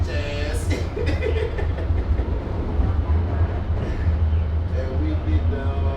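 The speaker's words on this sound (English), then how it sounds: "the train is at the Cedar Riverside station" A light rail train at the Cedar Riverside station rumbles steadily with wheel and rail clatter, heard fairly close, while people talk over it.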